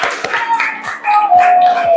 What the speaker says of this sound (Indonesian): Tepuk tangan untuk Izam.